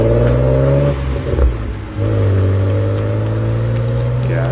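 A naturally aspirated BMW inline-six car engine pulls hard at high revs, drops briefly during a shift, then climbs again with a smooth, loud, close-up howl.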